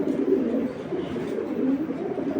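A female Kitel pigeon coos steadily and up close, low throaty rolling calls continuing throughout with no talk over them.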